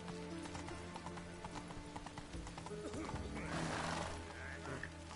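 Roach, a horse in The Witcher 3, gallops with rhythmic hoofbeats and gives a whinny, set against game music with a low voice speaking briefly.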